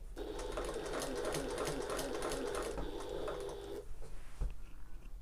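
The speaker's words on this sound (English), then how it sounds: "pivot and sew along this dart edge" A sewing machine hums steadily as it stitches along the dart edge of a fabric tote bag, then stops, followed by a soft thump and light handling sounds.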